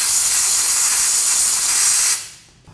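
Aerosol brake cleaner sprayed onto bolt threads on a 2017 Suzuki GSX-R1000, a loud, close, continuous hiss that cuts off abruptly near the end and leaves a brief fading tail.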